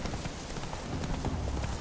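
A horse's hooves clip-clopping steadily in The Witcher 3 while riding, an even rhythmic beat heard close and fairly loud over game ambience.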